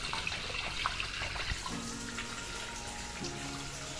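Water running from an opened tap knob on a rainwater harvesting system, a faint steady flow and trickle, with a soft hum joining partway through.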